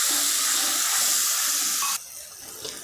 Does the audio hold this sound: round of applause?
no